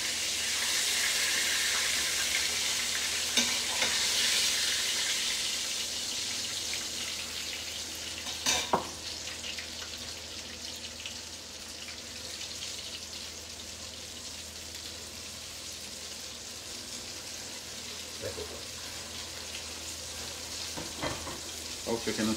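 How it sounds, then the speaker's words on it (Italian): Sea bass and bream fry in a pan in a home kitchen, a steady close sizzle and hiss throughout, louder at first and then settling, with occasional clinks and stirring sounds. "Allora il pesce che frigge"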